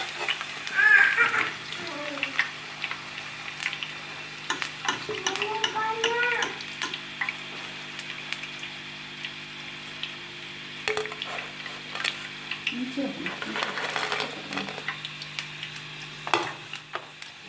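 Pakoras frying in ghee in a kadhai, a soft continuous sizzle and bubbling with a few louder crackles and clinks, heard close under occasional background sounds.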